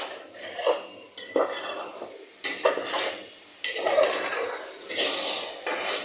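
Potatoes and beef are stirred in a pot. A utensil scrapes and clatters against the pot in a few separate bursts over a faint background sizzle, close and clear.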